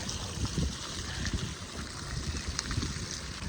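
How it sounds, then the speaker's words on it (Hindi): Water rushes steadily along a canal, a continuous broad wash with faint gurgles in it, heard outdoors at moderate distance with no one talking. "देखो एक कैनाल सी है, उधर से पानी आ रहा है"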